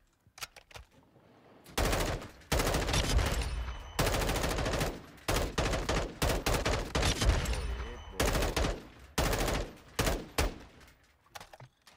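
Automatic weapon fire at a firing range in Warzone 2.0, with loud sustained bursts of rapid shots broken by short pauses and a few single cracks at the start and end.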